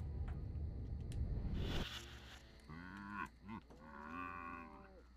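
Cows moo in the video game Destroy All Humans!, several long, drawn-out bellows following a burst of noisy game action, fairly close and clear with no talk over them.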